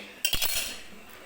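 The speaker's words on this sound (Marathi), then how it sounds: "तर व्यवस्थित असं हे बॅटर जे आहे ते मी या डब्यामध्ये काढून घेते." Spoon scraping and clinking against a metal tin as dhokla batter is scooped in from a bowl, a quick cluster of two or three bright metallic taps followed by a soft fading scrape.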